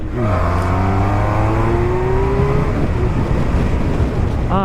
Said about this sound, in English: So this exhaust basically is much smoother, but then of course you cut down on the sound